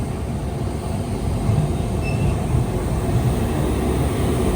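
An express train hauled by two locomotives leaves MGR Chennai Central bound for Bengaluru, producing a loud, continuous rumble of wheels and carriages with a faint high squeal.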